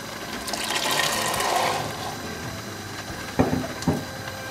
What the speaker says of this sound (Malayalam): ഇനി നമുക്ക് വേവിച്ച് വെച്ചിരിക്കുന്ന കടല ഇതിലേക്ക് ആരിക്കാം